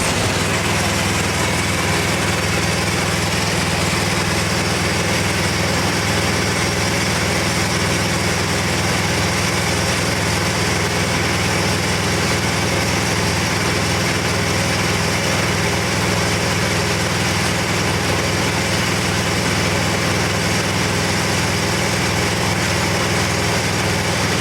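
A machine runs loud and unbroken during a chemical injector test, a dense steady mechanical drone with a low hum that holds without pause from start to finish.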